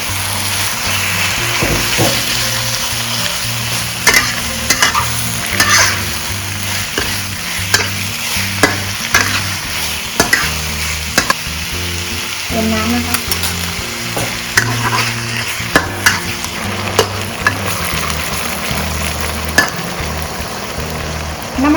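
Pork stir-fries in a hot pan with a loud, steady sizzle. A utensil clanks and scrapes against the metal in frequent sharp knocks, up close and with no talking.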